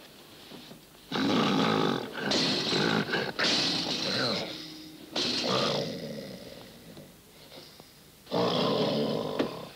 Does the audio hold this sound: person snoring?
yes